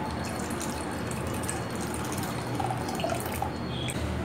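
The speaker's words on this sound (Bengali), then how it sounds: "এবার আমি এই ছানা কাটা দুধটা ঢেলে দেবো।" Curdled milk (chhena) pours steadily through a cloth-lined strainer into a bowl, a continuous close watery splashing and trickling that runs without pause and without talk.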